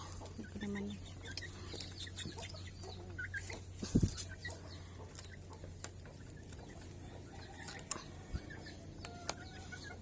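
Rhode Island Red chickens in a backyard flock give faint, scattered clucks over a steady low hum, with a couple of brief knocks in the background.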